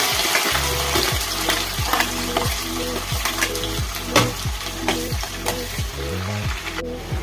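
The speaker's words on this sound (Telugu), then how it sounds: "ఇదైతే వేగిపోయాయండి తాలింపు గింజలు. ఇప్పుడైతే మనము ఉల్లిపాయలు వేసేద్దాము." Onions tossed into hot tempering oil in a pan for Andhra tomato rice, frying with a loud steady sizzle and repeated rhythmic stirring scrapes, close and continuous without talk.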